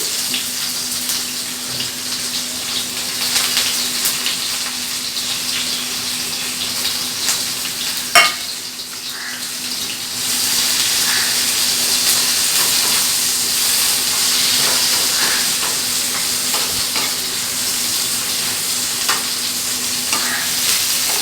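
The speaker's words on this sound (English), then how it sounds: "Now I will add the onion in the same oil." Onion hitting hot oil left from frying pomfret fish, a loud, steady crackling sizzle that runs on continuously, with a brief clatter partway through and the frying growing slightly stronger afterward.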